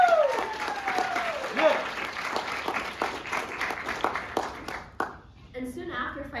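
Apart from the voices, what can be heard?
audience applause at campus speech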